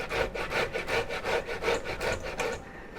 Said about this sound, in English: we're just going to grate it on the coarse side of the grater